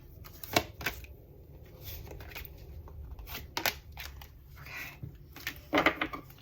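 Tarot cards are shuffled by hand, with several sharp riffling bursts and soft slides spread across a few seconds, close and fairly quiet, with no voices in between.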